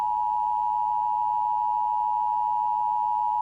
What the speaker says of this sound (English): that's enough with the beeping